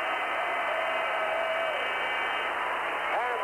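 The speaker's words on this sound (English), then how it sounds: "the crowd very excited as Sweden beats Canada 3-1" An arena crowd at a 1981 world championship ice hockey game between Sweden and Canada roars and applauds in a steady, dense wash of noise, with a broadcast commentator speaking over it.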